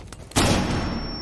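Flashbang grenade going off in the video game Rainbow Six Siege, a single loud sudden blast after quieter game sounds, with a lingering high ringing tone as the noise decays.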